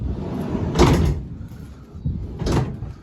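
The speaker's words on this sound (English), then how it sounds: "So it's got double side loading doors." Double side loading door of an electric van parked on a driveway, heard as two separate rolling, clunking door movements about a second and a half apart, fairly close and moderately loud.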